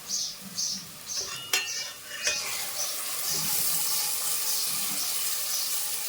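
Chicken curry masala is fried and stirred in a pan, with a soft sizzle, a few sharp clinks of a utensil against the pan early on, then a steadier frying hiss.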